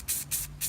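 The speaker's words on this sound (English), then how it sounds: "Matte finish is sprayed on." Three short bursts of matte finish spray from an aerosol can coat a sculpture, each hiss close and loud, evenly spaced with brief gaps between.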